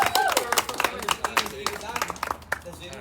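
An audience at a night of poetry, writing, music and song claps with sharp, uneven hand claps at close range for a few seconds, with no talk.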